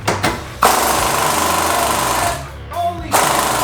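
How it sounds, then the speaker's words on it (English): An impact wrench loosening a car axle nut on a high-mileage 911 Turbo, with loud rapid hammering bursts: a short burst, then a long sustained rattle, then another burst after a brief gap, all close up. "Let's try the impact again."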